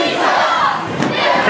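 Wrestling arena crowd roaring and chanting at the Philadelphia Eagles, a dense loud swell of many voices filling the space.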